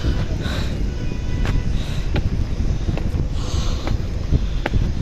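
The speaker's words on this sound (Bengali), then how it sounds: "বাতাস পরিমাণ বেশি।" Strong wind on a hill trail near Teknaf: continuous gusty buffeting and rumbling across the microphone, loud and unbroken, with a few faint clicks mixed in.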